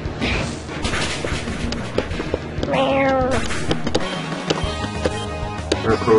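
A cat Pokémon's electronic cry in Pokémon Uranium, a brief rising and falling meow-like wail in the middle of busy game music and sound effects.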